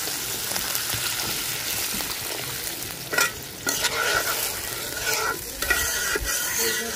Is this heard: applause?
no